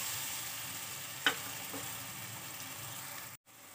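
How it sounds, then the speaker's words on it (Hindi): Potatoes with turmeric and chilli powder frying gently in a kadhai over low heat, a soft steady sizzle with one brief spoon clack and a short dropout near the end. "मसालों को अच्छी तरह से चला देंगे"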